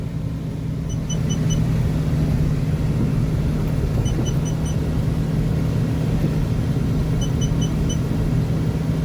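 A tractor-trailer truck cab with a modified gearbox, a Thai prime mover, drives with a steady, loud low engine drone and rumble throughout, revs held fairly constant, with faint high chirps recurring at intervals.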